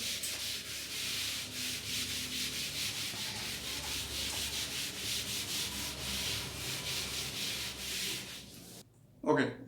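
A classroom board is rubbed clean during a chemistry lesson, a steady rhythmic swishing that continues for about nine seconds, close and fairly loud, then stops abruptly with a brief knock at the end.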